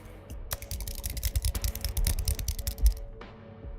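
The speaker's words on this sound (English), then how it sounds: "She was turned away, typing something intently." Rapid typing on a computer keyboard, close and crisp, with irregular bursts of clicking keystrokes and a brief pause, heard alone without talking.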